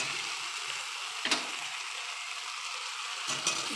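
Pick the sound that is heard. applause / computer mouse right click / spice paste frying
spice paste frying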